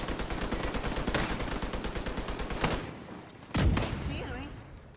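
Rapid bursts of automatic gunfire in The Division 2 video game rattle loudly for several seconds, then stop, followed by a sharp single blast and quieter ambient game noise.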